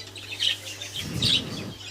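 Show budgerigar in a pet shop giving a couple of short, bright chirps over a low background hum, fairly close and brief.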